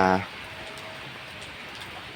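Steady rain falls outdoors beside a homemade charcoal oven, a continuous even hiss after a brief louder burst at the start, with no talking.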